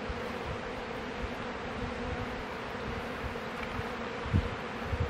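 Honeybees carrying pollen buzz on a hive frame, a continuous close, even drone of many insects, with no speech.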